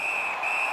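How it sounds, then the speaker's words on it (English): A referee's whistle in an NHL 18 hockey game sounds as one steady, sustained shrill blast over crowd noise, lasting the whole moment. "Puck covered, whistle blown."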